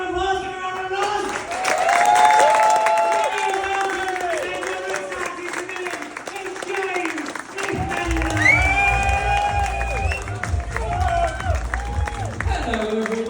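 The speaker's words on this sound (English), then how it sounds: "give him a round of applause, give him a round of applause" A comedy club audience claps and cheers for a comedian taking the stage, a dense, sustained wash of applause and whoops with voices shouting over it, swelling again near the end.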